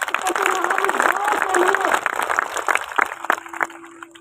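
Audience at a patriotic program in Haryana breaking into loud, dense applause that swells, then thins into scattered claps and fades, with voices mixed in.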